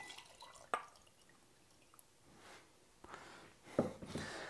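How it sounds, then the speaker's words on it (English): Liquid for a flavour essence with magnesium carbonate drips through a 20 micron filter, a few sparse, quiet drops falling at irregular intervals against near silence. "just give it a good stir and pour it right on top."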